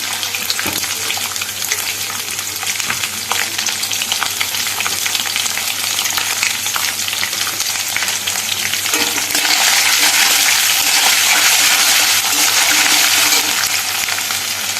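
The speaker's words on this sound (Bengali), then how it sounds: "প্রথমে দিয়ে দিচ্ছি হলো ফোড়ন গোটা জিরে তেজপাতা" Whole cumin seeds, bay leaf and chopped coconut crackle in hot oil with a loud, dense, continuous sizzle that swells louder toward the end, close up and without voices.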